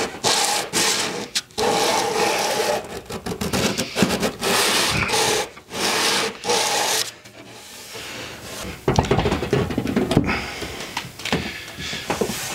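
Light sanding along the edge of a melamine panel, a steady close rasping and rubbing in repeated strokes with short pauses between passes, no talk.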